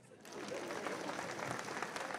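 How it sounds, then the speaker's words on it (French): An audience at a comedy show in Conakry breaks into steady, fairly close applause that begins abruptly and holds at an even level throughout. "Tout le monde applaudit."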